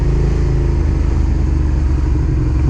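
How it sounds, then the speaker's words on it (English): A Suzuki SV650S motorcycle's engine runs loud and close with a steady throbbing drone, holding at high revs throughout with no voices. "You'll enjoy the revving out bit, because you can rev him out."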